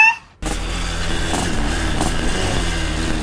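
Yamaha RX King motorcycle in a loud, wild two-stroke street build, its engine starting up abruptly after a brief quiet moment and then holding a steady, rough, close-up rumble with slight revving surges.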